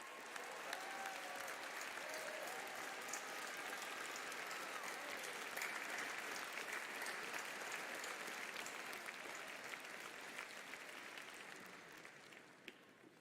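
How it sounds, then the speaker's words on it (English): A large commencement crowd at a 2022 graduation ceremony gives sustained applause, a broad, even wash of clapping that holds for about thirteen seconds before easing slightly at the end. "let's thank them all with a rousing round of applause"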